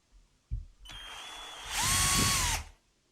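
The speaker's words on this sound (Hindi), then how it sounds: "ये 5 mm का ड्रिलिंग बिट से मैं ड्रिलिंग कर रहा हूँ।" A Stanley drill driver with a 5 mm bit gives a small knock, then spins up into a whine that grows louder and rougher as it bites into the material for under a second before cutting off.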